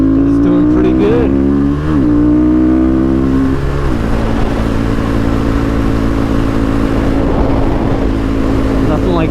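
A 2008 Husqvarna SMR 510 supermoto engine drones loud and close while riding, steady with a rev change early on, over strong wind rush, with a voice talking at the start.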